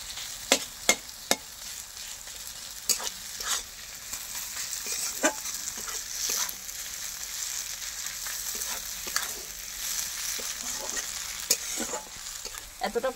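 Spoon stirring a banana flower and shrimp mixture in a hot frying pan, with steady sizzling and repeated sharp scrapes and clinks of the utensil against the pan, close and alone.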